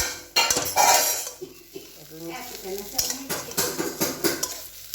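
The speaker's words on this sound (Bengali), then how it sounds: "আর এই যে একটু পোস্ত ভাজা করছি" Poppy seeds (posto) frying in a pan while a metal spoon scrapes and stirs, giving loud clinks and scraping at the start and then a softer sizzle and intermittent clatter beneath a voice.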